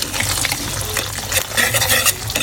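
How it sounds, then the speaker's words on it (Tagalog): Steady sizzling and crackling of an egg frying in a pan, with soft scraping and stirring sounds throughout, close and fairly loud. "Prito muna natin yung egg."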